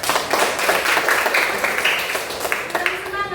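Classmates clap together in a school classroom after a group presentation, a dense, steady patter of hands lasting a few seconds, with some voices and chatter mixed in beneath.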